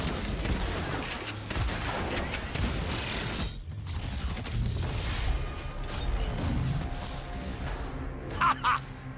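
Turret gunfire in Agents of Mayhem on PS5, rapid mechanical shots and clattering bursts mixed with creaking machinery and game effects, with voices talking over parts of it.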